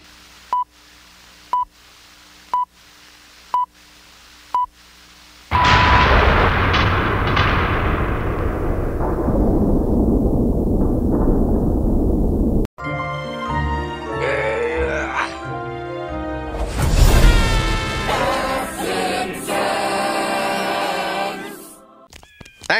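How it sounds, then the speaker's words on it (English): A cartoon ghost planet explodes in a Cartoon Network promo: a row of evenly spaced beeps comes first, then a loud, sudden blast with a long fading rumble, followed by music. "the ghost planet will explode"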